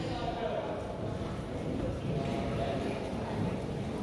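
Polo ponies gallop across the field during a chukker at a University of Virginia polo clinic, with faint, rapid hoofbeats running continuously under an announcer's commentary.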